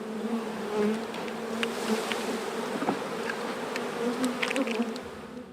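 Bees buzzing around beehives at a beekeeping site on restored mining grounds, a dense close swarm drone with individual insects passing near and away, no voices.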